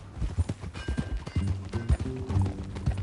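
Hooves clip-clopping from a horse in the video game Red Dead Redemption 2, an uneven run of soft thuds and knocks at moderate level, with some background game ambience and no clear speech.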